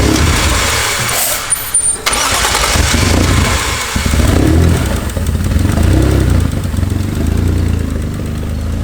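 A Mazda fitted with a Toyota engine cranks, catches and settles into a rough, loud idle that sounds uneven and breaks up. The engine runs close and steady after the start, with no talking over it.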